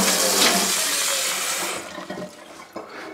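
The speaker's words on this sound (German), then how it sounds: "Da kommt jetzt ein Schuss Wasser rein." Tap water gushes loudly into a salad bowl in a home kitchen, then stops, leaving a few small splashes and clinks.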